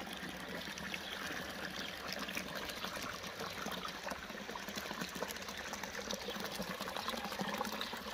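Irrigation water flows steadily into a clover field, a continuous broadband gush and trickle heard close and unbroken, without clear speech.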